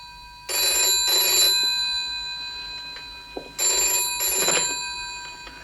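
An old desk telephone rings in two bursts of paired bell trills, clear and fairly close, with a quiet pause between the pairs and no talking.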